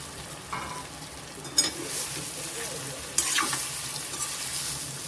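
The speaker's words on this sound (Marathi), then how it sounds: "आपण ढोकळ्याचे पीस घालूया याच्यात आणि छान असं हलवून घेऊया" Green moong dhokla pieces are stirred around a pan, with a few scraping clatters and bright spatula strokes over a soft steady sizzle, close and moderately loud, and no voices.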